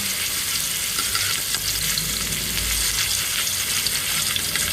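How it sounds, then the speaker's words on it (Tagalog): Garlic sautéing in oil in a pan for sardine sotanghon soup, a steady close sizzle and crackle with low rumbling, continuous and alone throughout. "Ayun, mag-isa na ako ng bawang."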